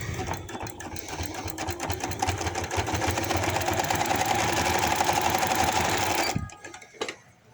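A sewing machine stitches a cuff onto a baby hoodie, whirring in one loud, steady run close by for about six seconds before stopping abruptly, followed by a few faint handling noises.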